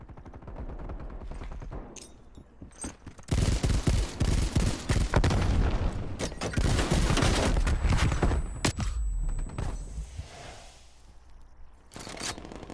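Akimbo pistols fire in the video game Call of Duty: Cold War, with loud bursts of rapid gunshots that come in clusters over a match's background noise, then fade toward the end.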